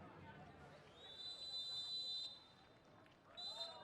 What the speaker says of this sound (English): that's the half-time whistle